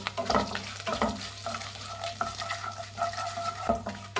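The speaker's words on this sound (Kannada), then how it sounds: "ಒಂದು 5 ಗೋಡಂಬಿ ಹಾಕ್ತಾಯಿದ್ದೀನಿ" Cashews, peanuts and curry leaves frying in a low-flame tempering for mango puliyogare, stirred in the pan: a soft continuous sizzle with repeated scraping stirs, close and alone.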